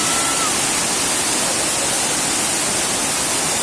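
Rushing water of a waterfall stream at Elephant Falls in Silong, a steady broadband roar that fills the whole clip, close and loud with no break.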